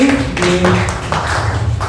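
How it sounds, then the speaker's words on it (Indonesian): Several scattered hand claps ring out over a murmur of voices in a roomy classroom space. "Beri tepuk tangan dulu."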